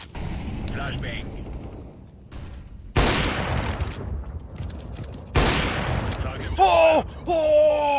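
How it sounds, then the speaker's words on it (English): Grenade blasts in a first-person shooter match: loud broadband bursts around three and five seconds, an incendiary whoosh and a flashbang bang, followed by ringing tonal whines, with players talking over the action. "Incendiary out. Flashbang."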